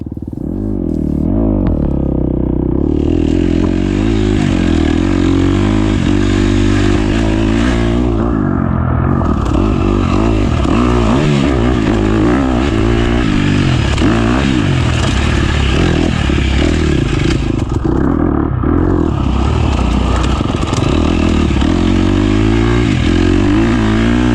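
A motorcycle ridden in cold rain, sleet and wet conditions, with a loud steady engine drone and rushing wind and road noise throughout, close and continuous with no one talking.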